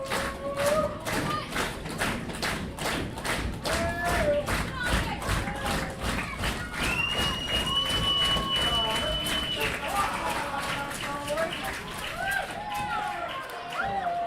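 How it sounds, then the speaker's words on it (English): A baseball crowd at a Guelph Royals quarterfinal playoff game claps in a steady rhythmic beat, many hands in unison, continuing under a commentator's talk. "Now the claps coming in, crowd getting into it."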